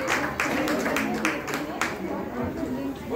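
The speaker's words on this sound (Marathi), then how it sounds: "सर्वांनी जोरात टाळ्या वाजवा" A crowd at a Shivotsav gathering applauds loudly, with dense, continuous clapping and sharp individual claps standing out over a background of crowd murmur.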